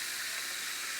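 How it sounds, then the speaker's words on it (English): Salmon sears in oil in a hot pan, a continuous close sizzle and hiss holding at an even level throughout, alone and without talk. "just flip that over, and we're going to sear it some more"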